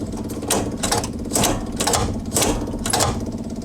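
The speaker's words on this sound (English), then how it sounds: "Tone of the fuel pump changed." An electric fuel pump on a Corvair carburetor setup ticks in a rapid rhythmic pulse, with a louder clack roughly every half second over a continuous buzzing whir, close and steady, with no voices.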